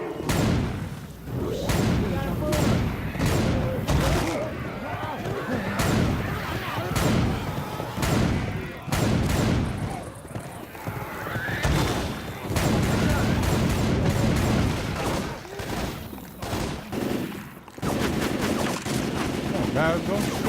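Repeated gunshots and heavy bursts of fire in the zombie shooter Left 4 Dead 2 on a rainy level, loud and close throughout, with players talking over the shooting.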